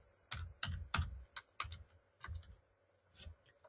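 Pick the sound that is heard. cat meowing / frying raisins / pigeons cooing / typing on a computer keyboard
typing on a computer keyboard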